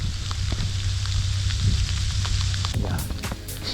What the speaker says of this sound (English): Definitely freezing rain or sleet, whatever you want to call it.